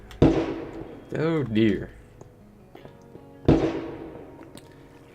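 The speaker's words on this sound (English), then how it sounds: "I apologize yet again for the the gunshot sounds" Two sharp, loud gunshot-like bangs fired outside, about three seconds apart, each with a long decaying echo, heard near a Minecraft stream; a voice speaks briefly between them.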